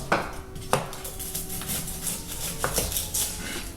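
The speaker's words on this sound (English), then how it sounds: "Chopping up an onion." A knife chops an onion on a cutting board in a home kitchen, a few sharp knocks spaced apart over low room noise.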